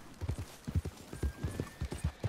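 Horse hooves clip-clop in a steady trotting rhythm in the video game Red Dead Redemption, moderately close with faint ambient game sound beneath.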